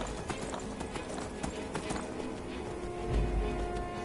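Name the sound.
horse hooves clip-clop in video game Skyrim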